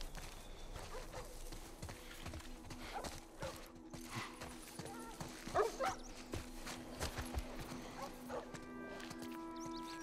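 Dogs bark and yip amid clopping hooves and footsteps in the video game The Last of Us Part 1, faint and busy under a low steady hum.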